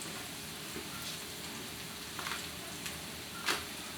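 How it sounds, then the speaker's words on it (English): Shrimp sauté with onions and garlic in a pan, giving a soft steady sizzle with a few brief louder pops and crackles, close and fairly quiet, with no talking. "let it kind of saute down with the onions and the garlic"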